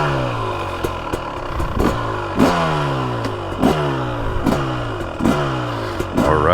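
A 2023 Husqvarna TX300 two-stroke dirt bike ridden on a woods loop: a loud, close engine that rises and falls repeatedly as the throttle is worked, with clattering knocks and bumps from the trail.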